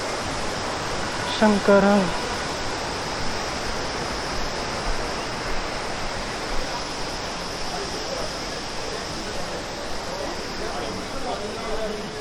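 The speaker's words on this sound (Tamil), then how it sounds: "உங்களுக்கு தெரியுதுங்களா இப்போ அந்த வாட்டர் ஃபால்ஸ் எவ்வளோ மெல்லிஸாக இருக்கு பாருங்க தண்ணி" Sahastradhara waterfall in Dehradun pours over limestone rocks in a continuous broadband rush that stays steady throughout, with a voice calling out briefly near the start.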